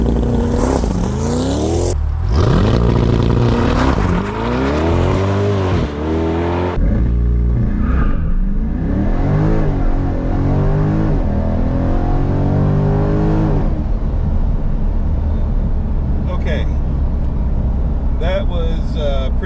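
Chevrolet C8 Corvette launching from a standstill, the engine revving and climbing through rising gear sweeps under hard acceleration, loud and close from inside, with a person talking over it.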